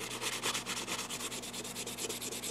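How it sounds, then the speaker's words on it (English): A chopstick rubs steadily across watercolor paper wrapped around a jewelry pendant, a close, continuous scratchy burnishing with a quick back-and-forth rhythm, heard alone. "take my chopstick and kind of burnish it with the chopstick"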